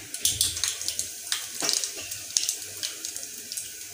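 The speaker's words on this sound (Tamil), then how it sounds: "இப்போ வந்து கடுகு போட்டுக்கலாம்." Mustard seeds crackling and spluttering in heated oil while tempering Tamil-style toor dal uppu paruppu, with a steady run of sharp, close popping crackles over a soft hiss throughout.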